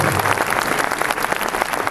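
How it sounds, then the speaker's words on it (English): Big audience at an opening ceremony in Malaysia gives a dense, sustained round of applause, loud and even from start to finish. "Please, another big round of applause for the hope of our future."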